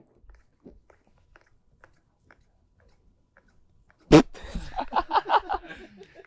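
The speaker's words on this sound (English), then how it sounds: "He is munching. Little sounds." A few faint, sparse clicks and soft crunches of a tiny dachshund munching food, then a sudden loud thump followed by a voice speaking close up.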